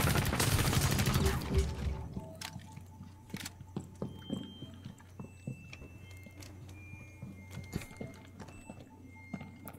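Gunfire in the video game Rainbow Six Extraction: a dense burst of rapid shots up front, then scattered sharp cracks and pops over a low hum, moderately loud.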